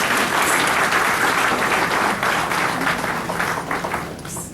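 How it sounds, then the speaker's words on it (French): Ceremony audience applauding in a steady, dense wash of clapping that stays loud throughout and tapers slightly toward the end. "Nous acclamons, s'il vous plaît."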